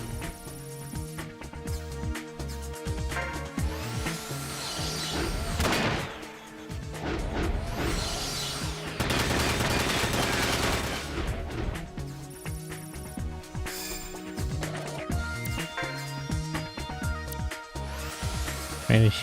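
Mech weapons firing in Front Mission 5, heavy booming shots and crashing impacts in repeated bursts, loud and dense throughout with no voice over them.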